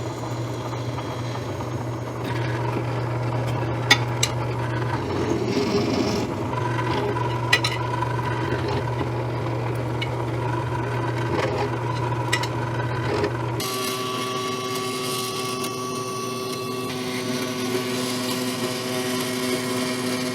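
Steady high-pitched whine of a small drill running a 0.8 mm bit through metal, with faint ticks and clicks, its tone shifting to a different pitch partway through.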